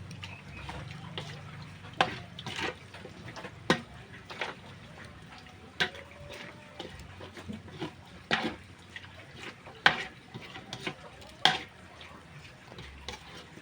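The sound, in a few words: stirring dinuguan pork blood stew in pot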